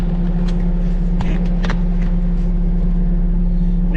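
Bobcat T62 compact track loader driving, a loud steady low diesel drone with a constant hum and a few brief rattles and clanks over the top, close and continuous.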